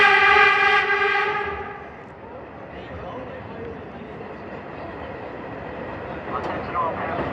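An R33 Redbird car on the New York City subway 1 train running express, with a loud horn or whistle blast fading into a steady low rumble and rattle of the moving train.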